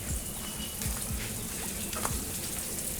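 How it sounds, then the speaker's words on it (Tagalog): Water overflows from a guppy fish tank on a fish farm, a constant loud splashing and trickling wash with scattered drips, steady throughout with no talk. "Wala, may awas ng tubig."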